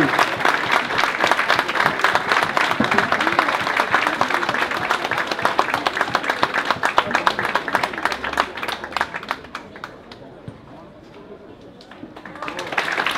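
Audience applause for a costume contest entrant fills the first nine seconds with brisk, dense clapping under a host's voice, then fades to near quiet before a few claps pick up again at the end.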